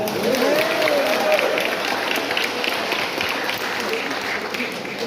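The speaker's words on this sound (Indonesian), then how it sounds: "Tepuk tangan untuk dia." A parish congregation applauds steadily and at full strength, a dense wash of many clapping hands that holds for several seconds, with voices talking over it.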